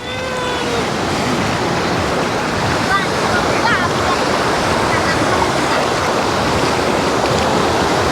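Sea waves of a rising tide during flooding in Florianópolis, Brazil, make a constant, loud, broad rushing roar that continues without a break.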